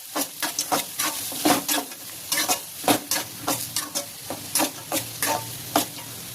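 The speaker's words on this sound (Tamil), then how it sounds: "அந்த வெங்காயங்க பூண்டை போட்டுடலாங்க அப்பமா மொத்தமாக போட்டு நம்ம வதக்கிக்கலாம்" Onions and garlic sautéing for a taro root kara kuzhambu, a spoon stirring and scraping the pan in quick rhythmic strokes over a continuous sizzle, close and clear with no talking.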